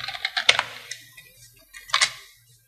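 Typing on a computer keyboard while entering notes into call-handling software, a few soft clustered keystrokes with gaps, close and moderate in level.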